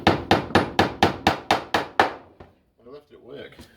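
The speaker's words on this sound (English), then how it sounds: "Because I'm using a metalworking hammer to put brads in." Nine sharp, evenly spaced taps from a metalworking hammer driving brads ring out close and loud, then stop, followed by a short stretch of quiet talk.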